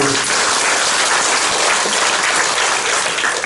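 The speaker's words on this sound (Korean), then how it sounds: "박수로 즐겨요" A church congregation breaks into dense, continuous applause that fills the sanctuary at full volume, an unbroken wash of many hands with no voices above it.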